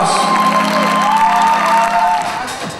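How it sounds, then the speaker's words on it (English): At a bodybuilding championship final, the audience applauds and cheers the men's physique finalists, with loud whoops and shouts rising over a broad wash of clapping that eases toward the end. "Big round of applause, fantastic class."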